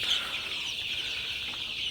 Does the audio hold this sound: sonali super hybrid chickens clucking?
yes